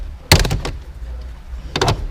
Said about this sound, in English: Probably does help to take this kick panel off from underneath as well, which also just pops out.